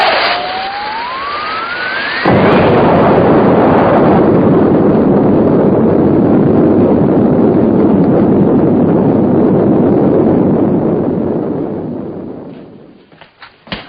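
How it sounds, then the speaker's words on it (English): A film-style explosion effect in wooded countryside: a rising whistle leads into a loud, sustained roaring blast that rumbles for about ten seconds before trailing off. "Looks like there's been some kind of an explosion over in Pelham Woods."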